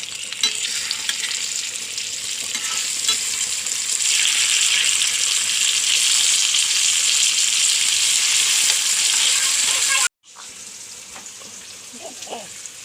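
Steady, loud sizzling and crackling of fish frying in hot oil with curry leaves, continuous for most of the clip before a brief break and quieter resumption.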